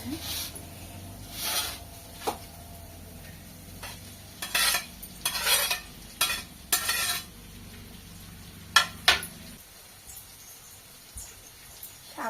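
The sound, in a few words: okra pieces frying in a pan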